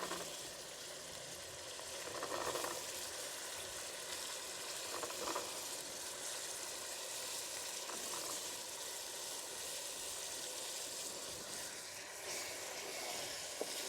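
Black chickpeas go into a sizzling garlic-ginger masala, which gives off a steady, even frying hiss throughout.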